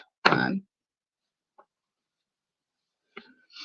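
A single short, sharp cough, followed by near silence and a couple of faint small noises.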